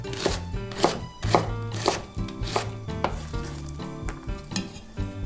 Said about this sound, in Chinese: 半颗洋葱快刀切丝